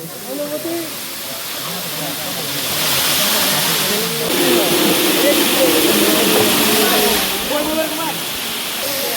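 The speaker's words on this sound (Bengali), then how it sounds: "ঝর্ণা ওয়াটারফল যেটা একটা দুইটা তিনটা" Suptadhara waterfall in Sitakunda rushes in a constant, loud wash of falling water, with people talking over it.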